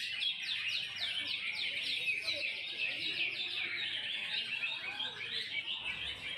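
A white-rumped shama (murai batu) sings a continuous stream of bright, rapid chirps and whistled phrases, steady and fairly close, with faint low background noise.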